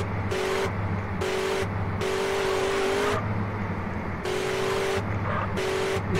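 A steady car engine idles and revs in the MTA roleplay game, its tone stepping up and down in repeated bursts, loud and continuous with no talk.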